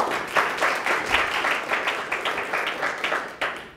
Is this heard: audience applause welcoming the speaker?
yes